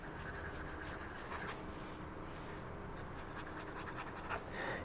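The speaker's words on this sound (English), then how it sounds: "you could hear the nib as it runs across the paper" Fine, scratchy rasping of a Sailor 1911 fountain pen nib dragged across paper in short strokes, close and fairly quiet over a soft background hiss.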